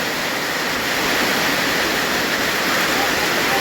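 Heavy rain and floodwater rush together in a dense, loud, unbroken roar that drowns out everything else, with no gaps and no other clear sounds.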